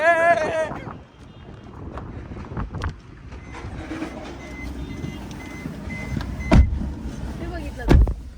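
Two vehicles sweep past on a road in quick succession near the end, each a short rising and falling whoosh over a low background rumble and wind noise.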